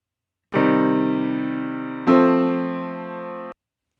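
Two synthesized MIDI chords in C, one minor, each held about a second and a half, sound cleanly in isolation with a sustained, slowly fading electronic tone.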